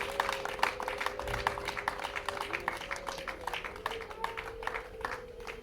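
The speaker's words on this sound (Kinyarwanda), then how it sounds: "nibakoma amashyi" Audience applause at a wedding ceremony, a steady, dense patter of many hands clapping throughout, moderately loud with a faint sustained tone running underneath.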